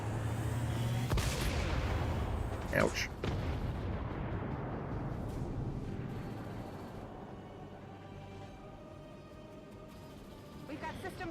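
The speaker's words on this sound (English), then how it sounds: "we got the big cannon firing here" A big cannon fires in the XCOM 2 video game: a sharp, heavy blast followed by a second burst, then a long rumbling decay that slowly fades, with a voice briefly exclaiming over it.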